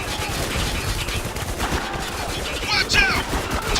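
Rapid gunfire rattles in the shooter video game Spec Ops: The Line as bursts overlap into a steady, loud fusillade, with a player talking over the shooting.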